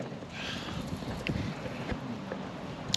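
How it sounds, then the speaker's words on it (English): Wind gusts outdoors on a working farm, a steady low rushing buffeting the microphone, with a few faint knocks and clicks underneath. "it's a tad windy"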